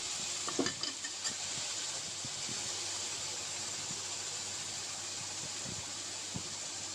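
A large onion frying in a pan for a Bengali prawn malai curry, giving a soft, steady sizzle with a few faint clinks early on.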